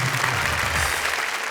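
Audience applause at a comedy show just before a poem is recited, a steady dense clapping throughout the short stretch with low voices or crowd murmur underneath.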